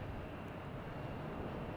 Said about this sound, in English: Air Canada coming in from Toronto, E175